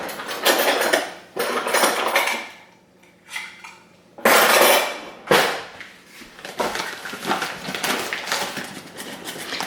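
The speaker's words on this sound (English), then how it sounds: "Let me get my 1/4 cup measure." Kitchen utensils and metal measuring cups clatter and clink in bursts while someone rummages through a drawer in a home kitchen, with short quiet gaps between the louder jangling handfuls.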